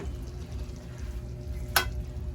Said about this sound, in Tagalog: Ginisa ko na ang sardinas.